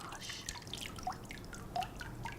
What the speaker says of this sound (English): Until you don't hear any drips anymore, a minute or so, just until it stops dripping.